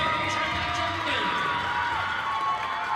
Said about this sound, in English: Let's have a round of applause for these young athletes